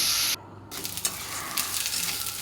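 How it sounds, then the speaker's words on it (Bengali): A spice paste of onion, garlic, black cumin and green chili with a little water fries in a pan, giving a close, steady sizzle with brief stirring scrapes. "পেস্টটা দিয়ে একটু জল দিয়ে দিলাম মশলাটা আমি ভালো করে কষিয়ে নেব এখন"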